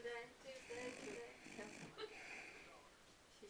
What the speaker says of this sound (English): She's snoring.